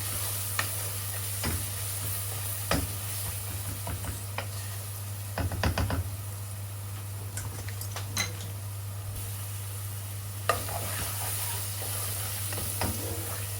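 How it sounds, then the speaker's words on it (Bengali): Garlic frying in oil in a cooking pot gives a steady, soft sizzle throughout, broken by occasional sharp scrapes and clinks of a spoon against the pot, with no talking. "আমি একটু রসুনটাকে একটু ভেজে রাখি"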